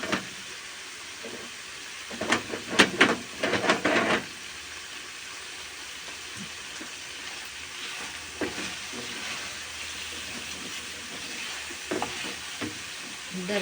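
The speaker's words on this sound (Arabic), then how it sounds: "نقلبها بقى كويس مع بعض كده" Liver and garlic frying in a pan while being stirred: a steady sizzle throughout, with a cluster of louder scraping stirs early on and a few lighter ones later, close and without speech.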